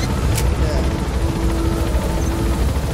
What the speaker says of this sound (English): Oh, there's an attack helicopter!